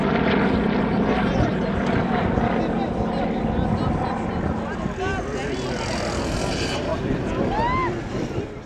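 A sport aerobatic airplane at an air show, its propeller engine droning loud and continuous amid wind noise, with crowd voices and talk mixed underneath throughout.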